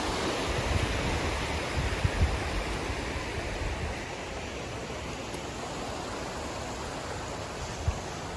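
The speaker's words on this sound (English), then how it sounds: "A little river for kids to paddle and play in the summer" A small, shallow river where kids paddle in summer flows past nearby, giving a steady, continuous rush of running water with a few soft splashes and no voices.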